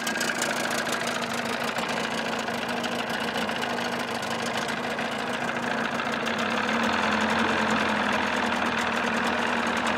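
A 1979 Evinrude 35hp outboard motor runs steadily with its cover on, a continuous close engine drone with a faint knocking texture that swells slightly louder toward the end, with no talking.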